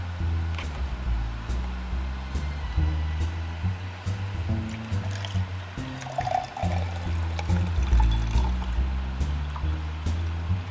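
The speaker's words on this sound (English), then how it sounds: "we're going to go ahead and pull that out and pour it in a glass and see what it looks like" Water collected by a water-from-air machine is poured into a glass. A soft trickle and splash play over a steady low machine hum, with no talk.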